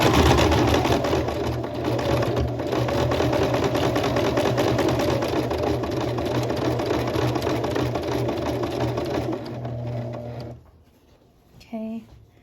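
A sewing machine stitches a seam on a Kalle shirt, running steadily and loudly for about ten seconds before stopping; a voice speaks briefly just after.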